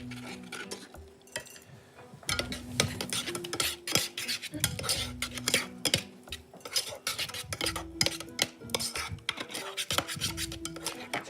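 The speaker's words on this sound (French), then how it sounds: "On va mélanger ça avec une cuillère" Crushed ratte potatoes being mixed with a spoon in a bowl, with busy rasping scrapes and clinks of metal on the dish in quick irregular strokes, close and moderately loud.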